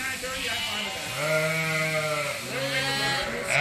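Suffolk ewes and Dorset rams bleat loudly during shearing, two long wavering sheep calls close by with a steady hum of shed activity underneath.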